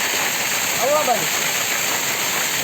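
A steady, broadband roar of a waterfall at the Osam Hill natural site near Patanvav fills the whole stretch, with a brief voice rising over it near the middle.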